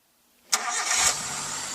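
A car engine that has just been cleaned is started by its starter and catches quickly, then settles into a steady, close idle hum. There is no talking.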